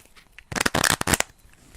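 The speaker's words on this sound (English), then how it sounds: "Bit of a weird shuffle there." Playing cards being shuffled by hand, one quick riffle burst of about three-quarters of a second, close and crisp against a quiet room.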